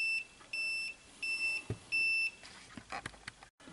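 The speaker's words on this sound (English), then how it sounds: "The audio generator is now putting out 1000 hertz" Steady 1000 Hz test tone from an audio generator in a bench test of an 8-ohm power resistor, sounding as several short, clear beeps in a regular on-off pattern, followed by faint clicks and handling noise.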